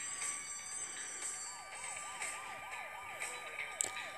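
A police siren from the video game Turbo Dismount wails in a rapid, repeating up-and-down pattern, moderately loud over a faint background hum, with brief clicks and knocks.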